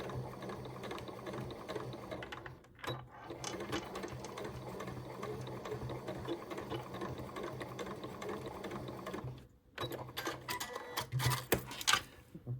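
A sewing machine stitching fabric for a cathedral window Christmas tree decoration, a rapid close mechanical whirr in steady bursts, briefly pausing twice before running again, with no voices.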